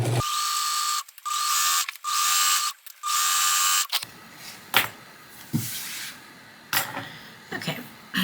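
A basic bottom-line sewing machine runs a small zigzag stitch close to the edge of a vintage hankie, with several sustained buzzing bursts of stitching separated by short pauses, then a stretch of clicks and handling noises.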